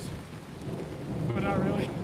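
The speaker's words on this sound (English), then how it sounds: "The storm was holding off right up until the stream started." Thunder rumbles under steady rain during an outdoor thunderstorm, a continuous low roll that swells louder toward the end amid the hiss of falling rain.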